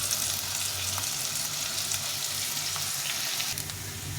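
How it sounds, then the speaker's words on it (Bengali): Potatoes frying in a pan, a steady close hiss of sizzling oil with a low hum underneath, continuous and even throughout with no talking. "আলুটাকে এরকম লাল লাল করে ভেজে নিতে হবে"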